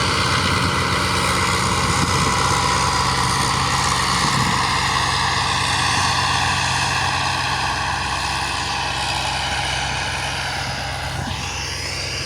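An MTZ-82 tractor pulling a cultivator across a field during corn planting produces a loud, steady engine drone with a constant whine over it, continuous and close throughout.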